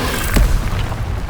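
A single Confringo fire spell blasts in Hogwarts Legacy, a loud booming burst with a short rumbling tail over steady game ambience.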